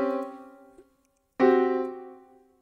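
Two sustained harmonic chords ring out one after the other, each struck cleanly and left to fade, with a brief silence between them.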